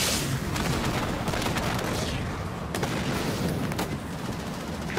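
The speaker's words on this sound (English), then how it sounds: "Can anyone take out that artillery for us?" Continuous barrage of booming artillery and gunfire in the sci-fi strategy game Halo Wars 2, loud and dense, with sharp blasts punching through a steady rumbling battle din.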